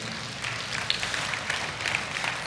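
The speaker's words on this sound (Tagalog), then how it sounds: "Pumalakpak nga ang lahat na nag-amen dyan." Scattered clapping from a church congregation, moderately loud and spread out, like a roomful of people applauding together for a couple of seconds.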